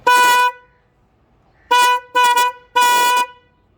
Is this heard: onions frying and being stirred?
no